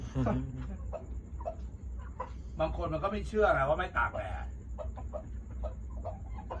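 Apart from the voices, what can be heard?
chickens clucking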